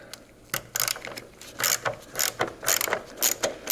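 A ratchet with an 8mm socket clicks on the battery clamp of a Ford F150, giving quick close bursts of ratcheting clicks in uneven runs with short pauses between, no talking.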